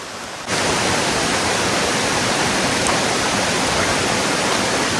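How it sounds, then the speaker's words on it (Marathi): A waterfall near the Kondane caves pours down with force as a dense, steady roar that starts abruptly and continues unbroken. "बघता काय एकच नंबर वरून पाणी येतं फोर्स मध्ये, आणि इथे पण वॉटरफॉल खाली"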